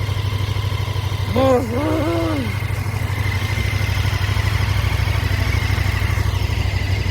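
A newly acquired motorcycle idles close up with a steady, throbbing low rumble throughout, while someone speaks briefly over the engine near the start.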